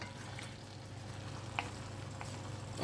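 Cottage pie mince mixture gently sizzling in a pot while being stirred, a soft steady crackle with a couple of faint spoon taps, quiet and close.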